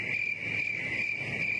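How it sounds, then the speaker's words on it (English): Crickets chirp in a continuous high trill, steady and fairly quiet, with no voices over them. "crickets."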